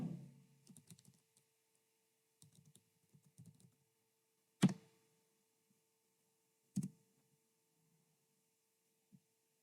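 Short bursts of keystrokes on a computer keyboard, quiet and close, typing a search term into an AI chat page, then a few louder isolated clicks and taps amid a faint steady hum.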